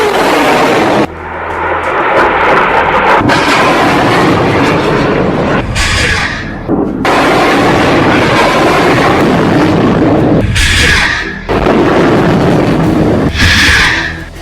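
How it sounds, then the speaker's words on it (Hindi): Hamas rockets launching one after another, a series of loud roaring blasts and rushing whooshes with short gaps between them, close and powerful. "एक के बाद एक हमास 10 रॉकेट फायर करता है।"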